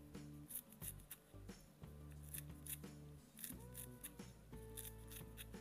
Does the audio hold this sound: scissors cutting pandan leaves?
yes